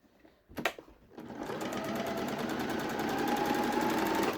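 A sewing machine stitches a bib seam on dungarees. A few clunks of fabric being positioned are followed by a steady, close, continuous mechanical hum and rattle of stitching that runs to the end.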